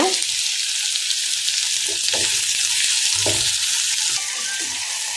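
Onions fry in a pan with rock salt: a loud, steady sizzle with intermittent soft stirring scrapes and small clatters, close up and without talk.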